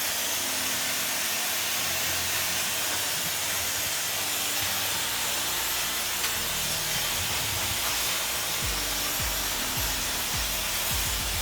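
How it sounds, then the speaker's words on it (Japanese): A hair dryer blows a steady, close airy hiss over freshly cut hair in a salon, running continuously with faint low rumbling shifts as the airflow moves. "では家でドライヤーをかけるように風を当てながら乾かしていきます。"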